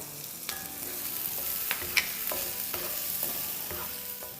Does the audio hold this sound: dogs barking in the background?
no